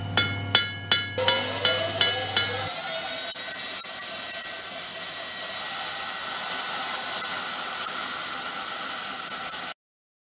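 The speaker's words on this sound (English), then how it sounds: "we're gonna put it through a meat saw" A few sharp knocks, then a meat saw starts and runs with a steady, loud, high-pitched whine as it cuts through a solid wooden butcher's block.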